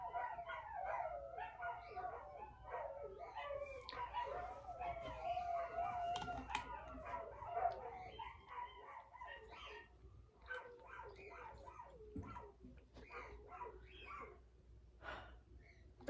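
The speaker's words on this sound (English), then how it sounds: "Those are the neighbors' dogs." Dogs bark repeatedly in the distance, a run of sharp yelps and howls, with a steady low hum and some faint voices underneath.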